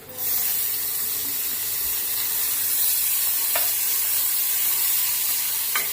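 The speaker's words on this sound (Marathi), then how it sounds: "टोमॅटो पण एकदम छान परतून घेऊया" Tomatoes with golden-browned onion sautéing in a pan produce a loud, dense, hissing sizzle that holds steady from start to finish, with a couple of faint utensil clicks, close up.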